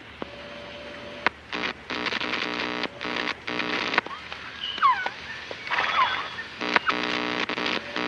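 Jungle bird calls on a recorded tape in Metal Gear Solid Peace Walker: a few brief chirps and whistling sweeps among choppy bursts of tape static and electronic tones.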